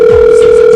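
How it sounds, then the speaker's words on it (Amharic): A loud, steady electronic telephone tone holds one unbroken pitch for under a second, close and clear, with no talking over it. "ስልክ እየተደወለ ነው"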